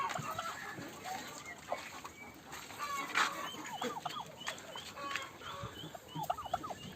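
A rooster facing off against a turkey in a ring in Ingushetia clucks, while gobbling and short fowl calls repeat in quick uneven bursts from nearby over outdoor noise.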